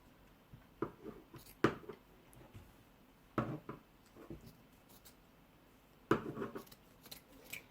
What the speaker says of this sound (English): you can get someone to hold this bit and have a go with the scissors